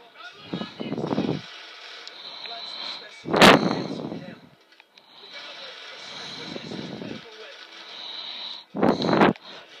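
Blasts and gunfire in Black Ops, heard as a few separate loud bursts with quieter gaps of game noise between them.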